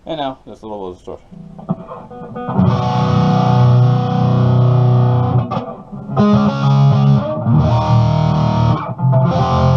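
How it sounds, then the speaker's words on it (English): A Chibson electric guitar on its middle pickup, played through a light distortion effect: sustained, slightly gritty chords ring loudly in long stretches after a few plucked notes, with brief gaps between strums. "And now, just a little distortion."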